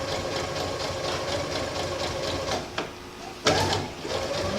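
A home sewing machine stitches a fabric skirt with a fast, even mechanical whir that runs continuously, broken by a couple of brief sharp clicks or clunks near the end.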